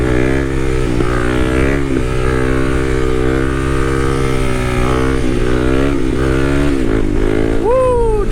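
A Kawasaki KLX300 dual-sport motorcycle accelerates hard, its single-cylinder engine revving up through the gears with pitch dips at each shift and a rising whine near the end, loud and close throughout.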